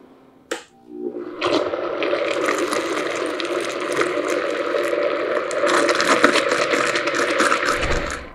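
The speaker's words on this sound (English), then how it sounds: "cover it with the towel so you don't get splatter and blend it just for 10-15 seconds until it's" A countertop blender whirs steadily through broccoli cheese soup under a towel, starting after a brief click and running loud and continuous for several seconds.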